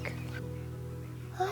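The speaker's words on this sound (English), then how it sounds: "let's watch some ducks" Ducks or geese give a couple of faint honking calls at a distance, with a steady low hum running underneath.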